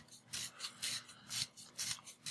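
A salt grinder grinds salt in repeated gritty rasping twists, about six rhythmic bursts close by, fairly quiet.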